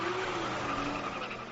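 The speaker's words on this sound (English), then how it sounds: "this is the sound of Denny Hamlin celebrating after stuffing the competition" A Toyota NASCAR Cup car celebrates a win with squealing tires and a droning engine, a short burst of rough, sustained noise with faint tonal squeal.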